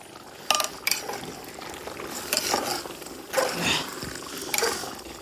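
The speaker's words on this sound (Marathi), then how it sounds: "ढवळ कर ना." Spoon scraping and clinking against a metal pot of chicken curry in a few irregular bursts, with soft bubbling and sizzling underneath; no talking.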